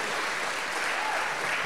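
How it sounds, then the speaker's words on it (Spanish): Church congregation clapping at a pastor's urging during a Spanish-language service, a dense, steady wash of applause filling the whole moment with no voices on top. "Aplauda fuerte. Alabe al Señor con sus palmas."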